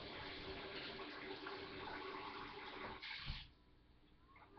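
Tap water runs steadily over fruit being rinsed in a kitchen sink while a cake is made, a broad continuous splash that cuts off after about three seconds and leaves a quiet room.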